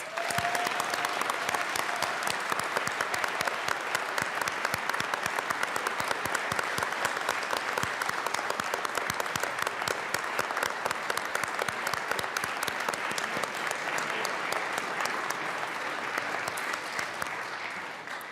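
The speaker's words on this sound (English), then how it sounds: "Let us all give them a round of applause" Sustained, steady applause fills the Colorado House chamber as members and guests honor distinguished veterans, a thick wash of many hands clapping evenly for the whole stretch after a brief tone at the start.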